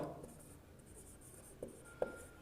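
Chalk or marker writing on a board during a Class 10 trigonometry maths lecture, a soft continuous scratching with two brief taps near the end, fairly faint with no talking.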